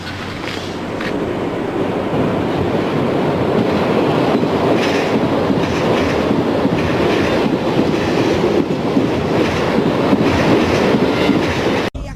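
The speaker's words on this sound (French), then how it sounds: "Et où est-ce qu'il passe le RER? Le RER, il passe juste là." A Paris RER commuter train passes close by, its steady rumble and rhythmic wheel clatter filling the whole stretch before cutting off abruptly at the end.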